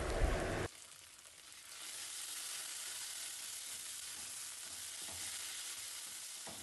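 Tomato pieces and tomato sauce stirred in a hot pan, a steady close sizzle and frying hiss with soft scraping of the spoon, continuous and fairly loud after a brief sharper burst at the start; no talking.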